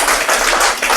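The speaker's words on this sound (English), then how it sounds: "Clap for him" Children at a pre-primary school competition clap for a winner, a brief close burst of quick, uneven hand claps.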